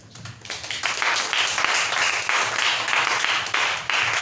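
A church congregation claps together in praise, a dense, fairly loud wash of applause lasting a few seconds after a short quieter start.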